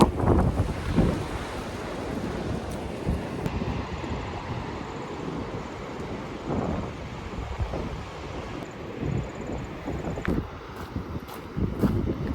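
Sea waves wash steadily at Elizabeth Point on a breezy coastal walk, a continuous broad roar with rising surges, while wind buffets the microphone throughout and no one speaks.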